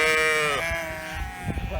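A sheep bleats nearby on a hiking trail, one long loud wavering call followed by shorter fainter bleats, with a voice speaking briefly underneath.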